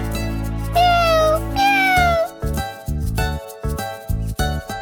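A cartoon kitten in an animated children's story gives a couple of drawn-out, rising and falling meows over a bed of background music, followed by a string of short, bouncy musical notes.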